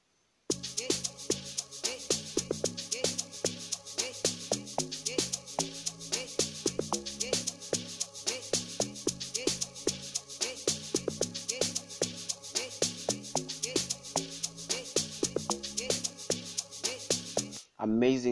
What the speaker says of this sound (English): This is actually my fourth log drum over here,